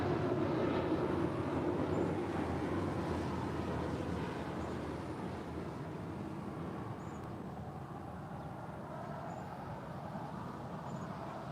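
An airliner taxis along Taxiway Bravo toward the Tom Bradley terminal gates at LAX, a steady low engine rumble and faint whine at moderate distance, fading slightly over time.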